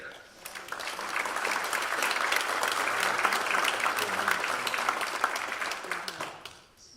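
An audience breaks into warm applause to welcome a speaker at a lifelong learning institute course preview, the clapping swelling to a full, steady roar before tapering off at the end.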